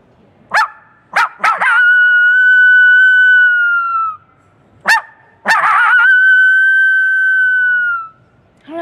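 A person imitating a coyote howl gives two rounds of short yips that run into long, loud, high wavering howls, held for a few seconds each, close and alone without other talk.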